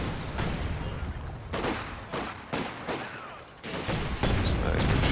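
A Bofors gun's barrage and other gunfire rumble in a World War II strategy game of British forces against German troops, with dense, repeated booming bursts and short gaps between them.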